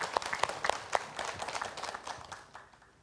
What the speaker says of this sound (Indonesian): Tepuk tangan buat Habib Muhammad Syahab